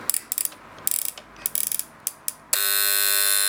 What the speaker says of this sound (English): sound the alarm